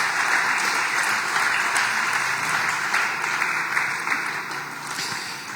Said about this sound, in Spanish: démosle un aplauso a Cristo Jesús por la obra que ha hecho en nuestras vidas